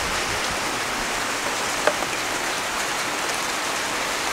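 Heavy rain pours down steadily outdoors by a house, a dense, even hiss of drops with one brief louder patter, no voices.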